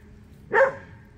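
A livestock guardian dog puppy gives one short, high yip-like bark, close and fairly loud, against a quiet background.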